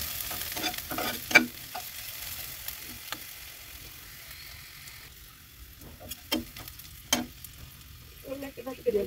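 Onions frying in a pan, a faint low sizzle broken by sharp spatula taps and stirring scrapes against the pan, close and intermittent.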